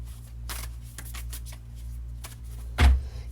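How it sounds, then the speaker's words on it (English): Tarot cards shuffled by hand nearby, a few quick riffling bursts and light card flicks over a low steady hum, ending with a soft thump. "Let's shuffle these up."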